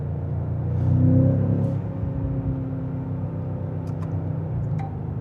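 A 2026 BMW M5 sedan in M2 mode accelerates with a steady, deep engine drone that swells briefly, then holds as a continuous cabin rumble.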